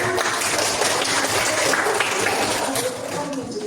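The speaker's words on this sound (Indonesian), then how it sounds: "Kita kasih tepuk tangan." Applause follows a correct quiz answer, a dense steady wash of clapping at close range for a few seconds that thins slightly toward the end.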